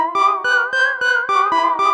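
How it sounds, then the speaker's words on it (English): Elektron Digitone synth sent through a Demedash T-120 v2 set to lo-fi chorus mode, sounding as a wavering, warbly sustained chord that is cut by short regular dips about every quarter second, loud and alone. "And with the T-120 on lo-fi chorus mode."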